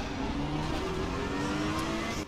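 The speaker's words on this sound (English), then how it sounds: "Fast car is approaching." A fast race car in the ACC racing game approaches with a steady, rising engine drone and whirring tone, loud and continuous.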